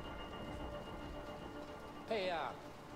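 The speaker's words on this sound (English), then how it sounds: "Just as soon as you hear the thunder, press the button." Steady rain from the video game A Way Out, a constant soft hiss with a brief swelling rumble of thunder near the end, a voice faintly underneath.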